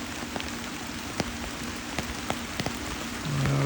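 Rain falls steadily in a forest where wild elephants bathe, a soft continuous patter with a few sharper drops landing nearby, and a low hum swelling in at the end.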